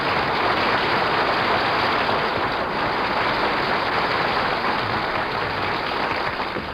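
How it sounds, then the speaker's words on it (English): Dense studio audience applause on the Jack Benny radio show, a steady, loud wash of many hands clapping that holds evenly for several seconds with no voices over it. "Well, did you hear that applause,"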